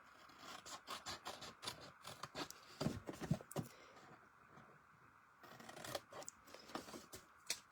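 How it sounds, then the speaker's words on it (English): Paper snips cut card stock rectangles along drawn lines, giving close, quiet, irregular snipping and scraping strokes with short pauses between cuts and no talking. "I'll just use paper snip, and I try to follow the lines"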